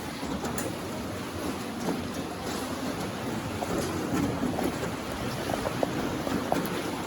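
Small boat riding on water inside Tam Coc cave in Vietnam, with a continuous wash of water and wind noise around it and faint knocks, no talking.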